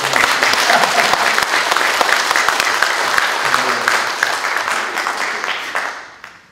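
An audience at a council inaugural meeting breaks into sustained applause, a thick, even roar of clapping hands that gradually thins and fades out near the end.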